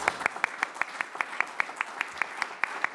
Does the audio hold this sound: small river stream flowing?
no